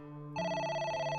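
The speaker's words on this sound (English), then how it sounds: "The phone is ringing." A telephone rings in the video game AI: The Somnium Files, a steady electronic trill with bright tones that starts abruptly partway through and rings on, close and clear with no one talking over it.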